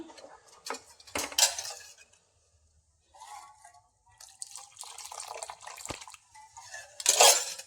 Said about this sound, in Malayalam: ഇതുപോലെ ഇളക്കി കൊടുത്താൽ മതിയാകും.